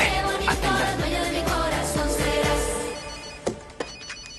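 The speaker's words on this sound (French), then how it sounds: "Qui est au téléphone?" A telephone rings indoors in a telenovela scene, its repeating bell pattern pulsing under a dense, loud background that fades toward the end, with a few sharp knocks at the close.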